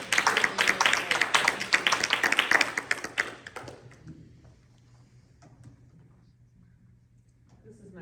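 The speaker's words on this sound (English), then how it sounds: "I would like to give another round of applause because that was really great" Audience applause for the speakers at a university Douglass Week panel event, a dense roomful of clapping with voices mixed in that fades out after a few seconds into quiet room tone.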